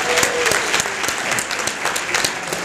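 A hall audience gives a steady round of applause for employees receiving five-year service awards, dense overlapping claps sustained evenly throughout at moderate distance.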